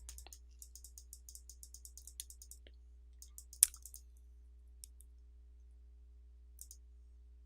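Light mouse clicks tap while a date is picked from a calendar picker on a form, a quick run of soft, close clicks followed by a few scattered later presses in near silence.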